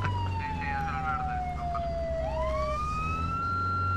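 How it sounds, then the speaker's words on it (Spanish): Police siren in the military game Arma 3, a steady wailing tone that sweeps down and back up, moderately loud over a low engine rumble, with no talking. "¿Lo quieres parar la puta sirena ya?"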